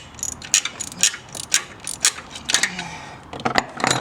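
A ratchet wrench works on a stripped bolt during car repair work. It makes a series of crisp, close clicking bursts in a steady back-and-forth rhythm, with no voices.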